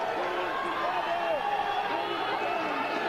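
A boxing crowd at a live fight in the tenth and final round keeps up a continuous, dense roar of cheering and shouting, with voices rising above a steady wash of noise.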